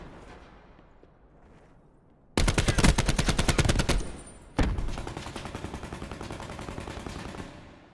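Rapid automatic gunfire in the Blackout battle royale mode, a dense burst of fast shots followed by a second sustained volley, loud and close, with quieter ambient game noise before it and no talking.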